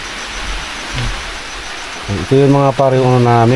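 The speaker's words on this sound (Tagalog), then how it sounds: "Lakas na ng ulan." Heavy rain falls steadily in a forest setting with a steady dense wash of noise throughout, while someone speaks loudly and close over it in the second half.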